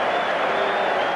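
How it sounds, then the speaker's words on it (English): A crowd at a British Lions rugby match erupts after a try, a dense, loud wash of cheering and applause that fills the whole brief moment. "And the crowd really rise in celebration of that Lions try."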